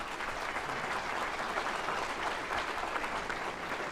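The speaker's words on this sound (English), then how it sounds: "You deserve a quick round of applause." An audience breaks into sustained applause for a guest at a Dalhart Wolves celebration event, dense steady clapping filling the room from start to finish without speech.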